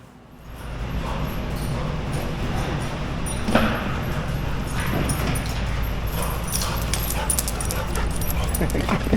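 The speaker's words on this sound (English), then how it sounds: "Good dog, Ellie." A dog being trained whimpers and lets out short, high yips against a busy outdoor backdrop, with people talking nearby and scattered clatter throughout.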